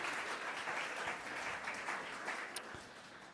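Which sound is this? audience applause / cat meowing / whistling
audience applause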